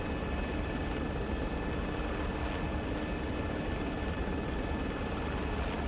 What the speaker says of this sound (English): The helicopter is going faster forward than it is.